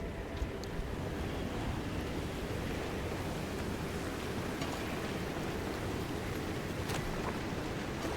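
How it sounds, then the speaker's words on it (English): Steady rain falling in the video game Pacific Drive, a continuous broadband hiss with a few faint taps on top, constant and even throughout with no speech. "It sure is still raining."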